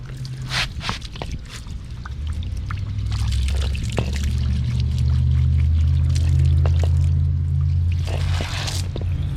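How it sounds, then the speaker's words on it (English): Water is poured and trickles over a car air filter, wet splashing and dribbling over a low steady background hum, with a few louder splashes near the end, close up and without talk. "What we want to do is get the air filter wet."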